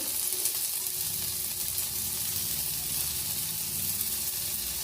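Bay leaves dropped into hot oil in a pan make a steady, even sizzle with a faint hiss that lasts for a few seconds, with no talking.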